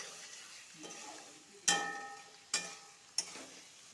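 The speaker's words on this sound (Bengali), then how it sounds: "পনিরটার সাথে ঝিঙ্গার সাথে মশলার সাথে ভালো করে একটু লাড়াচাড়া করব," Paneer, ridge gourd and spices fry quietly in a pan, a soft low sizzle broken by three sharp utensil knocks and scrapes as the mixture is stirred.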